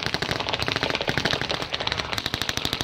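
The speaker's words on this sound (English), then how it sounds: "So whilst you hear that massive rate of fire" Rapid bursts of rifle fire from Royal Marines during a beach landing display at the Bournemouth Air Festival, a dense, continuous crackle of overlapping shots heard from a distance.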